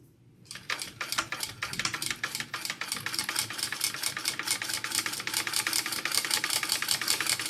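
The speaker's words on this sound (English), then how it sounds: "I'm gonna sew all the way down this edge with the zipper tape" A sewing machine stitches zipper tape along the edge of a handbag with a 1/4 inch seam allowance, a steady rapid mechanical chatter of needle strokes starting after a brief quiet and running close and continuous to the end.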